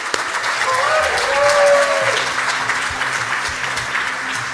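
Conference audience applauding, a dense, steady clatter of many hands that swells slightly mid-way and carries on throughout, with a faint tonal murmur underneath early on.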